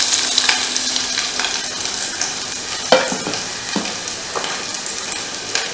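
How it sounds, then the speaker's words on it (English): Whole moong dal fries in a crushed ginger-garlic tadka with a steady close sizzle, punctuated by several scraping stirs of the spoon against the pan; no one speaks. "add it to the tadka. Fry this for 2-3 minutes"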